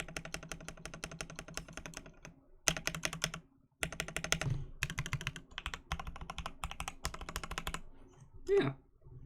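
Typing on a Cannonkeys Obliterated75 mechanical keyboard with an FR4 plate, a dense run of close, clacky keystrokes in bursts separated by short pauses, with a faint voice near the end.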